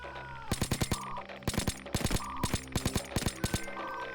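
Gunfire in the video game Payday 2 during a bank gold heist, rapid bursts of loud, close automatic shots in quick clusters, separated by short pauses.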